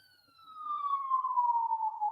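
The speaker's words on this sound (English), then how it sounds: "do you hear that siren past my house?" An emergency vehicle siren passes near a house, one long steady wail that swells from faint to fairly loud and holds, heard alone without voices.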